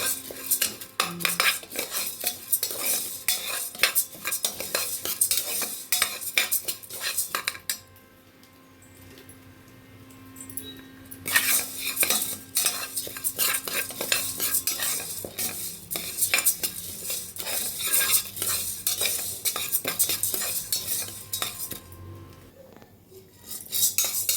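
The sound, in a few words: lentils (dal) dry-roasting and being stirred in a pan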